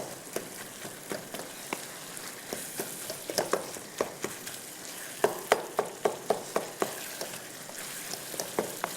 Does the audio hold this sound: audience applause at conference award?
no